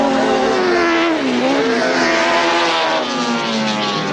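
Grasstrack racing motorcycles sweep past on the last lap, their engines a loud, high, continuous whine that rises and then drops in pitch as they pass close by.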